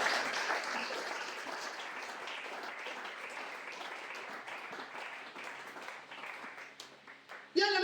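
A church congregation claps and cheers in praise of Jesus, a sustained, moderately distant wash of applause with voices mixed in that slowly thins toward the end before a brief louder burst.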